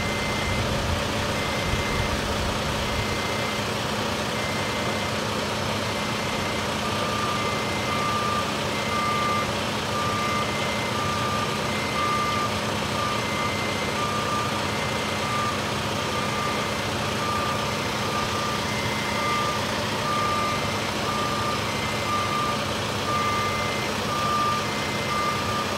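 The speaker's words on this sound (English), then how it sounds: "It's kind of scary to watch the guys unload these big old machines out of this truck." Truck backup alarm sounding a steady series of evenly spaced beeps while heavy machines are unloaded off a truck, over a loud continuous engine idle and hot outdoor roar.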